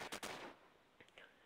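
Gunfire in the shooter game Standoff: a quick pair of sharp shots at the start, then a few fainter clicks and pings, quiet and brief overall.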